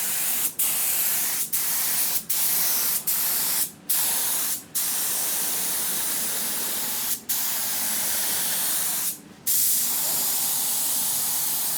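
Short bursts of a spray gun hiss as epoxy sealer primer goes onto bare bodywork metal of an LS-swapped S10 pickup, several quick spurts followed by longer passes, close and loud with brief gaps between.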